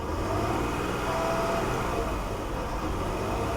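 A Mercedes GLE 450 on 28-inch wheels with a lift kit, its engine running rough at idle, gets a little throttle and settles into a steady, close, continuous engine drone with no talk.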